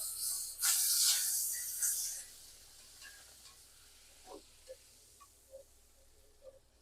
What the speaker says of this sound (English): Let that butter melt down. Get it nice and hot.